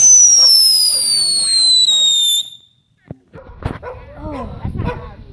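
A firework whistles loudly nearby, then a sharp close bang follows, and excited voices and a barking dog come in afterward.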